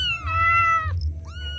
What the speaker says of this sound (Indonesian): Kucingnya makannya lahap banget.